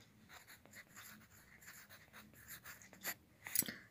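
Marker or chalk writing the word scurvy on a classroom board, a steady run of short scratchy strokes close by, ending with a couple of sharper taps, no talking.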